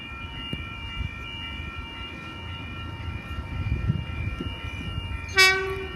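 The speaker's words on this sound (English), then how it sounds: "We have a 4-car Oscar approaching platform number 2." A 4-car Oscar electric train approaches the platform at Woonona station in New South Wales. A low rumble of the train and rails builds, and a short, loud horn blast sounds near the end.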